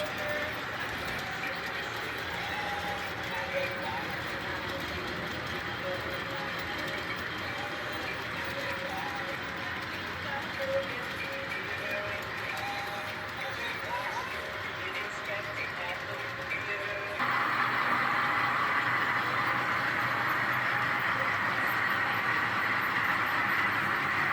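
Model trains rumble and clatter along the track in a steady running drone, growing louder and brighter partway through; a voice talks faintly at times.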